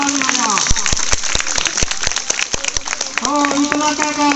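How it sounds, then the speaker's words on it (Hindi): A crowd claps at a village cricket final, with scattered hand claps rising into a burst of applause while someone speaks over a loudspeaker. "ताली बजाओ, ताली बजाओ।"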